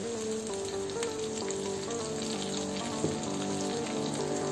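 Green chillies fry in a pan with garam masala and a pinch of asafoetida while being stirred, a soft, even sizzle running throughout with a steady tonal hum in the background.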